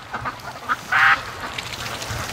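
Pet ducks near a lake give several short nearby quacks, with one louder, longer quack in the middle, and no speech.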